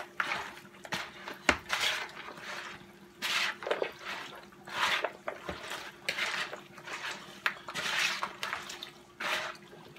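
Seasoned chicken and pork pieces tossed and mixed in a pot for curry chicken and pork, with close, repeated wet squelching and clinking bursts in an irregular rhythm and no talking.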